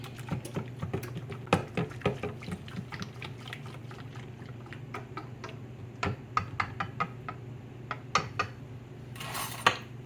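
Heavy cream being whisked into a crab filling for deviled crabs, a steady run of quick light clicks and taps of a whisk against a bowl, close and continuous with a few louder knocks.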